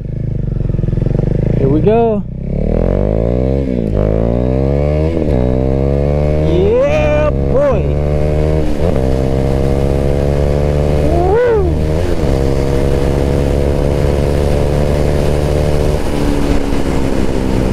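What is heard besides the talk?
Husqvarna Vitpilen motorcycle accelerating in first gear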